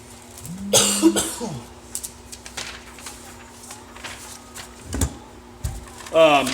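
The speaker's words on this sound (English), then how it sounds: "If you hear me coughing, I'm not sick." A few short, harsh coughs, one early and a couple later, over a quiet room with a steady low hum and light clicks.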